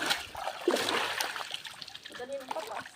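River water splashes and sloshes as people wade upstream, a moderately loud watery churn with scattered splatters throughout.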